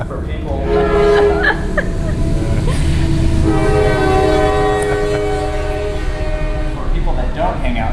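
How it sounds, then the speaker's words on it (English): A train passing through downtown Belmont, North Carolina sounds its horn in long, loud sustained blasts over the rumble and clatter of the rail cars, with a voice speaking faintly underneath. "Here comes the train."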